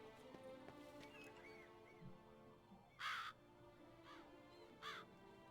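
Crows cawing in a bustling city area of The Witcher 3: Blood and Wine, two distinct caw bursts near three and five seconds rising above a steady busy game ambience with faint horse clip-clop.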